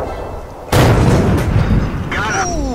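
A tank cannon fires in World of Tanks with a sudden loud boom that rolls on as a rumbling tail, followed near the end by faint whistling tones and then talk.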